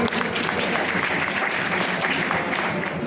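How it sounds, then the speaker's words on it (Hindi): Loud, steady applause from an audience at a child welfare committee gathering with the women and child development department, dense clapping filling the whole stretch without a break. "एक बार अपने लिए जोरदार ताली बजाइए।"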